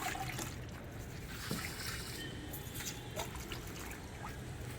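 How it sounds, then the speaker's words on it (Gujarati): Leftover wash water from vegetables, rice and lentils poured from a container onto garden plants, a soft, faint trickle and splash running through with a few small drips. "આવી રીતે એક એક દોઢ બે ડબલા જેટલું પીવડાવી દઉં છું દરરોજ બધા ઝાડવાના"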